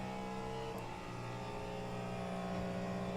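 LMP and GTE race cars in rFactor 2 at Road America's back straight toward turn 4, a continuous steady engine drone with layered tonal whine, moderately loud and sustained with no talk.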